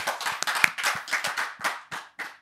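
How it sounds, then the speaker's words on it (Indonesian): Around a dozen firm claps sound close by in an uneven rhythm, like a small group applauding briefly after a talk-show interview. "Tepuk tangan dulu."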